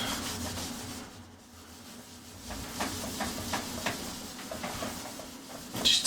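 Someone rubs out a drawing, producing soft, steady scrubbing strokes that come in a loose rhythm of repeated swipes, fairly quiet and close, with no talking.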